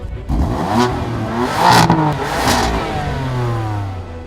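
A BMW M4 with a twin-turbocharged straight-six revs hard, climbing through several rising pulls with gear changes between them, loud and close.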